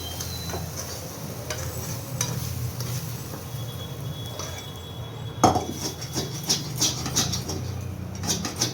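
Morola fish and potato curry is poured out of a cooking pan, with a metal spoon scraping and clinking against the pan over a light sizzle. A sharper clatter comes midway, followed by a run of brisk scrapes.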